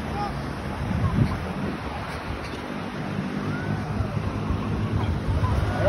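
Sea waves wash onto a beach in a steady broadband roar, mixed with wind buffeting the microphone. The surf is continuous and moderately loud, with no distinct breaks between waves.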